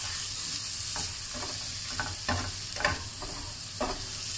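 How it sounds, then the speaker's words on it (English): Mushrooms fry in butter with a soft, continuous sizzle, broken at intervals by the scrape and clatter of stirring in the pan. "So we're going to cook our mushroom in some butter."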